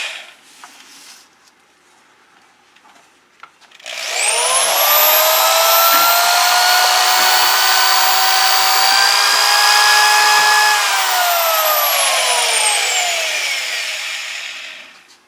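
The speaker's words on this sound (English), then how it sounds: "Here's the drill for mixing." A quiet room, then a power drill mixing resin whirs up and runs steadily at high speed for about ten seconds before slowing and winding down.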